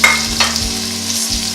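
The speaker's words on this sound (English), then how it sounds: "So we're frying our onions and they're about to get ready." Onions sizzle and crackle steadily in a hot pan, with occasional stirring scrapes, close up and continuous with no talking.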